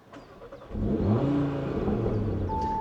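Audi RS3 engine catching and revving up toward 4,000 rpm, a sudden rise into a loud throaty drone that holds steady and then eases slightly, with no clear pops, heard alone close by.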